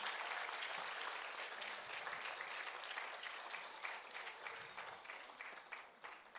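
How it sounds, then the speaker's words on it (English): An audience applauds after a Kathak dance performance, a sustained wash of clapping that gradually thins into more distinct individual claps toward the end, with no talking over it. "can we get a thunderous round of applause for that breathtaking performance?"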